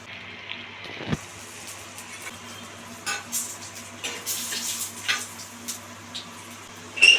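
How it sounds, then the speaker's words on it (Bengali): Dried red chillies frying in oil in a pan with whole spices, a faint sizzle broken by occasional spoon scrapes and clinks, close but quiet. "শুকনো লঙ্কাটা এর মধ্যেই ভেজে নিচ্ছি।"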